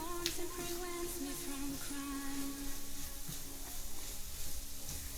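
Borscht vegetables sizzle steadily in a pan on a gas stove at medium heat, with occasional scraping stirs over a soft continuous hiss.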